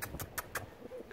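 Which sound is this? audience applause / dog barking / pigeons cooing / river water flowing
pigeons cooing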